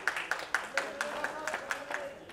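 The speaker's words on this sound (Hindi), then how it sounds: "एक बार जोरदार ताली बजा दीजिए।" An award ceremony audience claps in quick, even, close-up rhythmic claps, about a dozen sharp beats over a murmuring hall, with a voice speaking faintly underneath.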